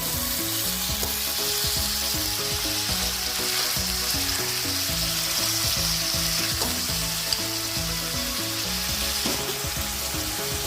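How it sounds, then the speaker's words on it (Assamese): Meat and potatoes fry in a pan with a constant, loud crackling sizzle, broken by a steady rhythm of stirring scrapes and clicks, with no voices. "আলু দিয়াৰ পিছত আকৌ মাংসখিনি অলপ সময়ৰ কাৰণে ভাজি লোৱা হ'ব যাতে আলুখিনিও ভালদৰে ফ্ৰাই হৈ যায়"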